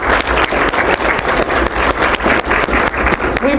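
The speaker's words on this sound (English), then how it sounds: "Let's give them a little round of applause." A luncheon audience claps steadily for faculty sponsors at a research day event, a dense, even round of applause that stays loud throughout.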